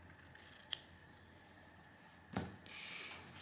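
Scissors snip yarn twice during crochet work on a baby dress, two short crisp cuts about a second and a half apart, close and fairly quiet against a faint background.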